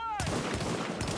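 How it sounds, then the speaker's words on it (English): Grenade blasts in the shooter game The Division: a sudden loud burst of explosive noise after a brief tonal sweep, followed by dense rumbling and crackling debris that continues to the end, with a second surge near the close. "That's some nades."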